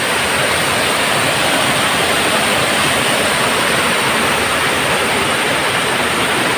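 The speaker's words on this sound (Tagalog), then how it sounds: "Yun yung ilog." A river flowing in the rainy season, a dense, steady broadband rush of water that stays loud and constant with no voices.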